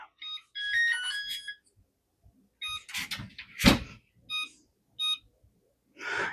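A kitchen oven timer beeping in bursts of bright electronic tones with gaps between them, mixed with a few clicks and knocks of a door or cupboard nearby, moderately loud and close, no speech.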